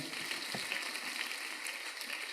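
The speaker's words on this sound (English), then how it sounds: "So please, a round of applause for her." Faint applause from an audience at a women's celebration during the Asogli Yam Festival, soft and distant, spread evenly across the short moment without voices standing out.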